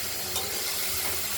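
Thin strips of ripe pumpkin fry in a wok with mustard-seed tempering in oil, giving a brief, even sizzle with soft stirring underneath.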